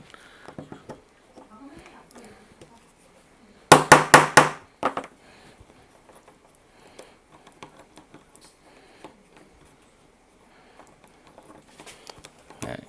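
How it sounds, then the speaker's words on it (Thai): Metal hammer blows strike a grinder gear to loosen it during a repair, with a quick burst of four or five sharp, loud knocks in the middle, set among quieter handling clatter and light taps. "ตอกนิดนึงนะครับมันจะหลวมแล้วก็คายออกได้ง่ายขึ้น"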